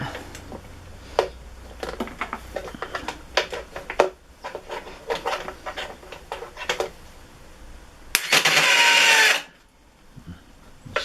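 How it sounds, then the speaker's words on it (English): Triumph Trophy motorcycle starter, with a faulty starter clutch, fails to turn the engine over: a string of short, sharp mechanical clicks and clatters, then a loud, close whirring spin of about a second before it cuts off. "See, it's not turning the engine over"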